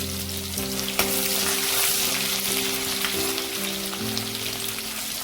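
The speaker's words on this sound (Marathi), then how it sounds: "खडे मसाले आपल्याला अर्धा ते 1 मिनिट तेलामध्ये परतून घ्यायचं" Whole spices frying in oil for a pulao, a close, steady sizzle with a sharp tap of a utensil near the start and faint background tones running underneath.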